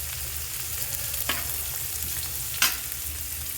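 Peeled pointed gourd (potol) frying in hot oil, a steady close sizzle throughout with two sharp crackling bursts as pieces are stirred, no voices.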